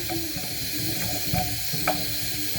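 Finely grated carrot sautéing in a pan gives a steady, close sizzle and hiss, with a few soft stirring knocks and scrapes over the running frying noise.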